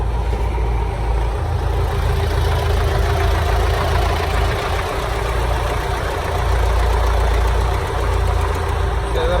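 A loader's diesel engine idles close by in a farm yard with gravel nearby, a steady heavy low rumble with a slight knocking pulse that barely changes throughout.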